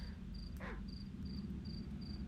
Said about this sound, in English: with the crickets I understand, they're like tiny, so it would make sense that you don't actually see an individual cricket